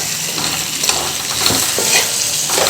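Potato curry being stirred in a pan after ground roasted coconut is added, a steady scraping and soft sizzling texture with irregular spoon strokes, close and alone.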